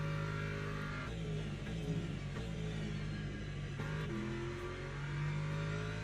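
Race car engine in the Le Mans Ultimate racing game, a deep, meaty sustained drone with steady revving and slight pitch shifts throughout, loud and continuous with no talking.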